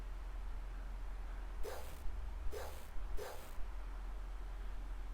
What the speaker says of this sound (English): As you hear the stray dog barking in the distance